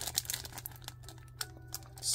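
Close, quiet crinkling and tearing of the plastic packaging around a Cuphead collectible card, in irregular crackly bursts with a brief louder rustle at the end and no talk.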